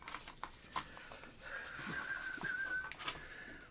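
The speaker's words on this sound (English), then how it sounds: "I whistled. I started to whistle." A person whistles a short tune indoors, a thin wavering tone rising and holding for a couple of seconds at moderate volume, with light background shuffling around it.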